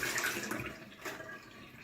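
Tap water pours into a kettle in a home kitchen while cornmeal porridge is prepared for breakfast; a steady, close splashing rush runs the whole time with no talking.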